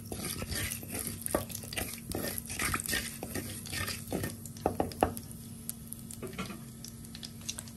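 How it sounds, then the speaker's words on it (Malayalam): Fenugreek seeds dropped into hot coconut oil in a pan for a Kerala fish curry, crackling and popping in quick irregular bursts over a low steady hiss, close by and without voices. "ചൂടായി വന്നപ്പോഴത്തേക്കും ഞാൻ കുറച്ച് ഉലുവ ഇട്ട് കൊടുത്തിട്ടുണ്ട്."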